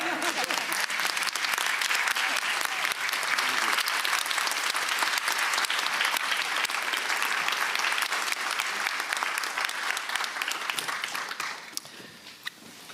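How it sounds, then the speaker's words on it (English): A large commencement ceremony crowd applauding in a dense, sustained wash of clapping that holds steady for about eleven seconds, then thins out and fades to scattered claps. "At least the healthcare MBA should stand up and applaud him one more time."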